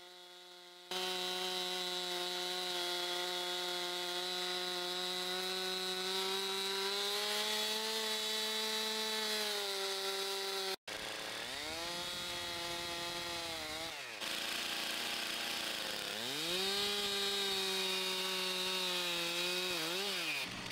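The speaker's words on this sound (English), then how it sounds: "The main chainsaw that I use around the farm is a Steel MS-362" A Stihl MS-362 chainsaw cuts logs on a farm, its engine revving high and holding steady through a long cut, then briefly dropping and surging again as it bites into the wood, loud and close.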